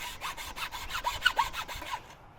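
Hand saw cutting relief cuts into a wooden plank, a steady series of about ten rasping back-and-forth strokes, close and moderately loud, with no talk.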